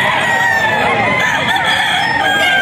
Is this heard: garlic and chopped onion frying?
no